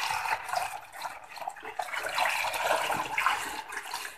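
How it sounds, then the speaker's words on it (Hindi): Water splashes and gurgles steadily as it is poured into a container, a continuous rushing wash at moderate level, close by, without speech. "इसके अंदर ना हम लोग पानी डाल देते हैं"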